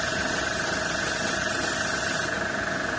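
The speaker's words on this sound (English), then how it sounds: "Not hair spraying, but air spraying." An airbrush sprays paint onto a Dassault Mirage III-O model aircraft, giving a steady, close, continuous hiss with a faint compressor hum underneath, unbroken for the whole stretch.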